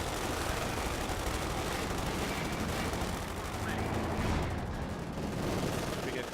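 Dense gunfire and explosions from the World War II strategy game Company of Heroes 2, played with the American army, forming a continuous loud battle din with rolling rifle and machine-gun bursts and distant booms throughout.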